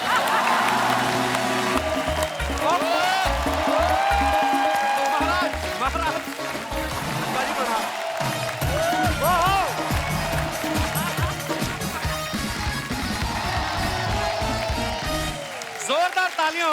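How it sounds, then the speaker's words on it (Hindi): Studio audience on The Kapil Sharma Show applauding and cheering to welcome actor Anupam Kher, sustained loud crowd noise mixed with music and talking voices. "जोरदार तालियां हो जाए अनुपम सर के लिए"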